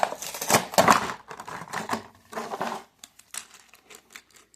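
Packaging of a 2024 Spin Master Monster Jam 1:64 scale Monster Mutt Rottweiler toy truck being opened, with close crinkling and tearing of plastic and cardboard in several bursts, then sparse small clicks and rustles.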